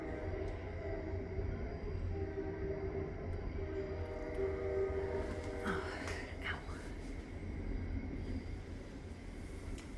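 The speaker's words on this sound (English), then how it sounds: "That's our usual train." A train rumbles past steadily for several seconds with a continuous low rolling roar and squealing wheels, while someone whispers or talks quietly nearby.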